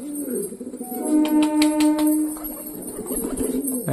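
Pigeons coo repeatedly in a low, throaty rumble, with a few brighter chirps and rustling mixed in, close by and fairly loud.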